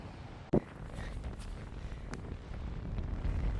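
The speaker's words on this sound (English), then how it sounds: "Quite windy." Steady wind rumbles across the microphone in low gusts on a hiking trail in Junkerdal National Park, Norway, with one sharp buffet near the start and no voices.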